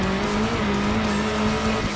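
A rally car drifts in the Sébastien Loeb Rally EVO video game, its tires squealing in a long sustained whine over a loud, constant engine roar.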